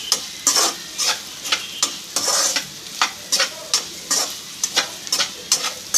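Potatoes with chili powder stirred in a hot pan, a spatula scraping in regular strokes over a soft background sizzle, close and fairly loud.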